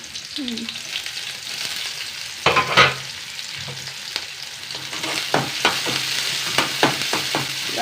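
Curry leaves, asafoetida and green chillies frying in a pan, a close crackling sizzle punctuated by repeated sharp scraping stirs that grow more frequent toward the end.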